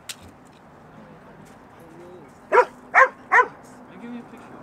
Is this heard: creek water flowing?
no